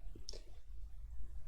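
A single soft computer mouse click sounds briefly in a quiet room during Photoshop editing.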